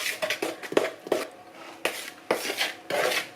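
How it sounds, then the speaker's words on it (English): Cookie dough being mixed in a bowl as flour is worked in, giving repeated scraping, rubbing strokes of a utensil against the bowl in short bursts with brief pauses, close and fairly clear. "So now we're mixing in the flour"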